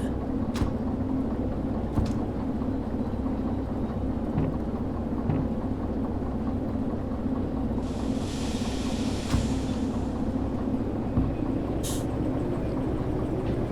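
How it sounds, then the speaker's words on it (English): A moving locomotive in the Derail Valley train simulator video game rumbles with a steady low drone, with occasional clanks and a brief hissing burst partway through. "Just make sure that people are aware that this is a moving locomotive."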